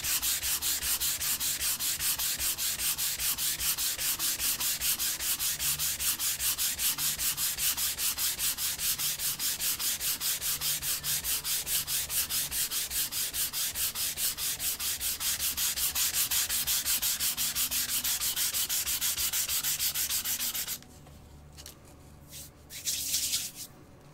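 Sandpaper rubbed steadily along the grain of a wooden board prepared for pyrography, a close, loud, rapid back-and-forth rasp that runs unbroken for about twenty seconds before dropping to a few lighter scrubbing strokes.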